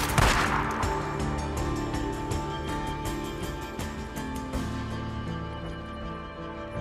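A shotgun blast in the zombie video game Days Gone, a loud sharp report near the start that rings out over a dense, steady bed of game music and ambience.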